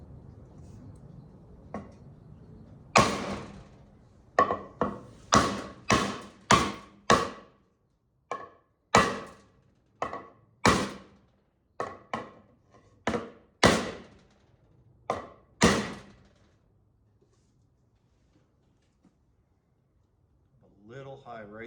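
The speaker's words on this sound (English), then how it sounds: "You can just tap it in with the hammer to get it just exactly right." A hammer taps a flat wooden board into place during a skid steer transmission job for a Max 2 ATV, a run of about a dozen sharp, close knocks in uneven rhythm, with a soft voice before them.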